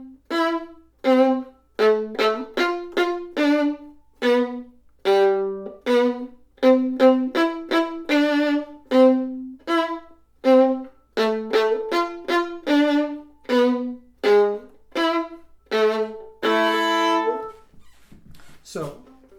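Violin bow strokes played in the lower half of the bow near the frog with frequent retakes, a lifted détaché of short, separated notes repeating in an even rhythm, close and clear with no talking.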